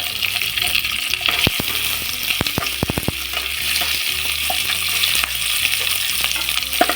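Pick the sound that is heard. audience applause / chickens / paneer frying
paneer frying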